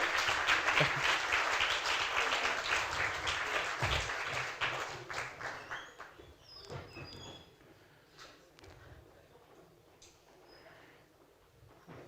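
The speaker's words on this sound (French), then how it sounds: "Allez, on les applaudit encore." Audience applause at an award ceremony for a short-video contest, a dense burst of clapping that gradually thins and fades into scattered claps over about twelve seconds.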